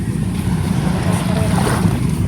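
A steady rumble of arriving motorboat engines mixed with wind buffeting the microphone, loud and continuous throughout.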